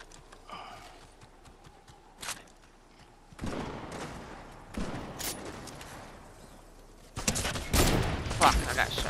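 Gunfire in a multiplayer shooter video game, with bursts of shots and impacts arriving in loud clusters amid scuffling movement, while players talk over the action.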